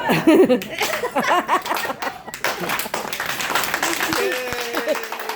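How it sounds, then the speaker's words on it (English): Slow clapping from an audience at a Renaissance faire show, uneven claps mixed with laughter and chatter, fading into someone speaking. "it's not the best slow clap ever"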